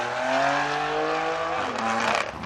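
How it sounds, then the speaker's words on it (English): An exotic car at a meet holds a loud, revving engine drone with a rising pitch, then breaks into a harsher, hissing tire squeal near the end of the short burst. "He needs to burn his tire letters off."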